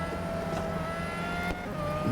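Pagani Zonda R race car engine in the Real Racing 3 video game, a continuous high-revving whine holding steady at full speed, loud and alone with no voices.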